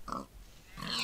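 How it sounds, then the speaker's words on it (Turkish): Two short pig grunts from Minecraft, close and clear, separated by a brief pause. "Gel bakayım domuzcuk."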